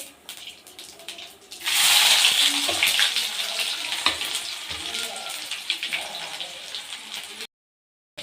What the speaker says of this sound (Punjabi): ਜੀਰਾ ਸਾਡਾ ਚਟਕ ਜੇਗਾ